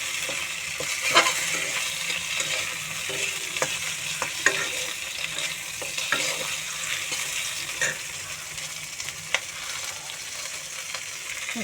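A pre-fried fish head goes into a hot pan of oil and is stirred, giving a bright, constant sizzle with scattered sharp spits and clicks of the spatula, close and fairly loud.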